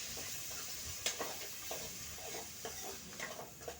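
Tomatoes sizzle faintly in an okra curry as they are stirred in, with soft irregular scrapes and clicks of a spoon over a low, quiet frying hiss.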